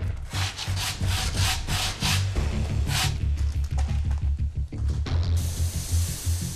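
Steady rasping of sandpaper rubbed over a lacquered paulownia wood jar, continuous strokes close up with a brief hiss near the end.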